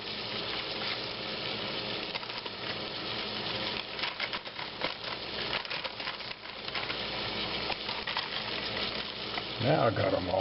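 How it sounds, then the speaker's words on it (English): Peas and carrots are stirred into a pot of sausage soup, giving a steady, close sizzle with soft scraping and wet churning that continues without pause. "Now I got them all out, and we'll stir these in."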